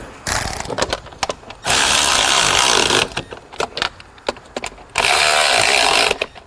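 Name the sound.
tool tightening bolts on Audi Q7 valve cover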